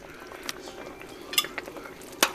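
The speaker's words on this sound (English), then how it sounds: "And we're just going to keep stirring and keep boiling." Berry jam boiling in a pot while a spoon stirs it, soft bubbling and sizzle beneath a few sharp clinks and scrapes of the utensil against the pot.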